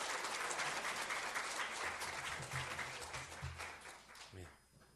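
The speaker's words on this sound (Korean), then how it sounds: "큰 박수로 맞아주세요." A church congregation applauds to welcome the pastor to the pulpit, a broad patter of clapping that holds steady, then thins and fades out at the end, with faint voices beneath.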